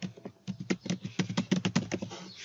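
Rapid clicking keystrokes on a keyboard while a short account-deletion feedback message is typed for Wattpad, a close, quick irregular patter of taps with no talking.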